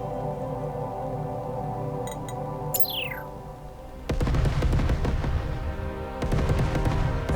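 A low engine-like drone gives way to a rapid, rattling series of video game cannon shots in Starcom Unknown Space, dense and repeated, with a brief whistling chirp beforehand.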